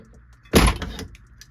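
A Matteson Machine 10mm gas check maker presses a check with one sharp, close metallic clunk and a brief ringing tail, with quiet surroundings before and after.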